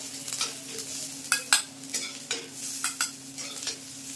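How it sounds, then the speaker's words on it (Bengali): Spices for a spicy magur catfish curry fry in a pan, a soft steady sizzle broken by repeated scraping strokes of a spatula, several sharp stirs close by, with no talking. "আর একটু ভাজা ভাজা করবো যাতে কাঁচা গন্ধটা চলে যায়।"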